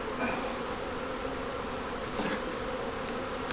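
Honey bees drone steadily around an open hive while it is being smoked, a dense, even buzz that stays close and fairly quiet for the whole stretch.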